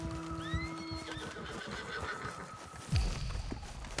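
In the Red Dead Redemption 2 video game, a horse neighs loudly and clearly, followed by clip-clopping hooves and other game sounds, with a sharp thud near the end and no talk.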